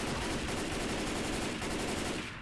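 Dense, continuous video game gunfire, a loud sustained rattle of rapid shots filling the whole stretch with no pauses.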